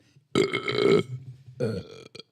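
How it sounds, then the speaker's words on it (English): A person forces out a deliberate air burp, a long loud close croak followed by a second shorter belch and a tiny trailing grunt, with little else around. "I can air burp."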